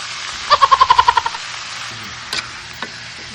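Garlic, onion and pork ribs sautéing in a pan for pork guisado, a quick run of rhythmic stirring scrapes with a light sizzle, then a few scattered clinks and soft kitchen sounds.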